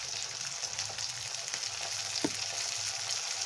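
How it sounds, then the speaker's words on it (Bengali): Peas frying in a pan for chili paneer give a steady close hiss of hot oil, with faint scrapes and one soft knock as they are stirred and no speech. "মটরশুঁটি দেওয়া হয়ে গেছে, আবার একটু এগুলোকে নাড়িয়ে নিচ্ছি"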